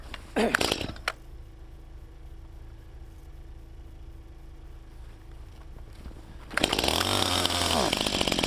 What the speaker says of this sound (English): I got my chainsaw all oiled up, got a tank of gas in it